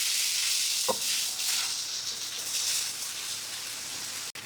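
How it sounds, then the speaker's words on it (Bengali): Ginger paste sizzling and frying in a hot pan while being stirred for a country chicken curry, a loud continuous hiss with one brief scrape near the start and a sharp click near the end. "দিয়ে ভালো করে নাড়াচাড়া করে কষিয়ে নিব।"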